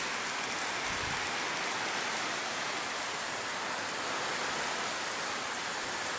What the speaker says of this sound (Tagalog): lakas ng ulan po sa amin